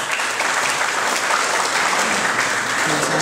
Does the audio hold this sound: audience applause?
yes